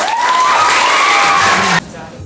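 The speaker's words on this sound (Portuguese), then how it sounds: "Queria pedir uma salva de palmas para o nosso grupo." Applause and cheering from a school audience after a group presentation, loud dense clapping and shouts that cut off abruptly near the end.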